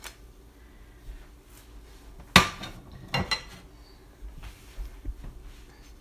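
A pan is lifted off a stove and breakfast taco food is pushed onto a plate, with one sharp metallic clank, a second cluster of scraping clinks, then softer dull knocks in a quiet kitchen.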